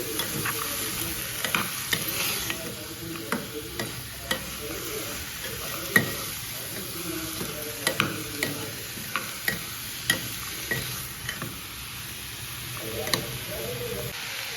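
Pigeon pea seeds for kandi ginjala kura are stirred in a frying pan. A spatula scrapes in repeated irregular strokes over a soft, continuous sizzle, close and fairly quiet.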